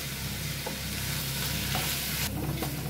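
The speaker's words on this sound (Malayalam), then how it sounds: "ചിക്കൻ ചേർത്ത് നന്നായിട്ട് മിക്സ് ചെയ്ത് കൊടുക്കുക." Chicken pieces are stirred into softened onions in a hot pan, frying with a constant dense sizzle and occasional scraping of the spoon, close and steady throughout.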